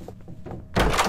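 Door opening in the horror video game Doors: a faint creak-like rustle followed by a sudden loud thunk as the door swings open.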